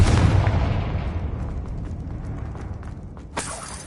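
Incendio fire spell in Hogwarts Legacy, a loud fiery burst that erupts and then decays into a long crackling rumble, with a sharp second flare near the end.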